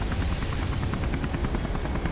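Helicopter in the video game Beyond: Two Souls, with a steady rhythmic rotor chop that stays loud and close throughout.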